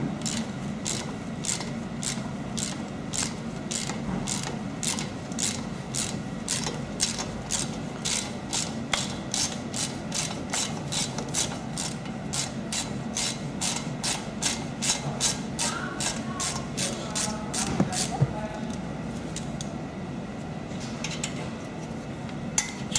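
A ratchet with a hex bit loosens the front brake caliper bolt on a VW Golf 5, giving a long run of evenly spaced, crisp clicks nearby. The clicks pause near the end with a faint metallic clink.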